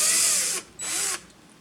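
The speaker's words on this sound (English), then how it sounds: "just reverse your drill" Power drill running in reverse to back a screw out of wood, two loud whirring bursts of about half a second each separated by a short pause, close up with no talk.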